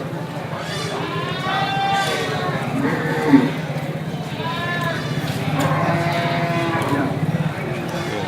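Cattle at the Sibreh livestock market in Aceh low and moo amid a busy crowd, with a steady hubbub of voices and occasional animal calls rising through the din.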